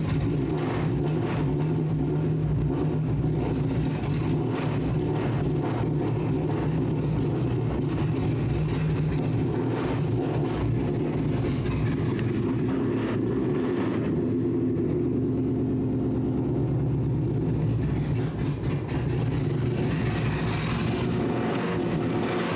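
A Nissan S13 engine running after starting, a steady low idle rumble with a continuous hum and faint high whine, unchanging and close for over twenty seconds.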